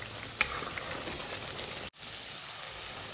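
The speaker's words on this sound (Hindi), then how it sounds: "अब इन दोनों चीज़ों को अच्छे से हम भूनेंगे, कम से कम इसे हम पकाएंगे 1 से 2 मिनट के लिए।" Onion with ginger-garlic paste fries in a pan, giving a steady, faint, even sizzle and crackle that briefly cuts out near the middle, with no voice over it.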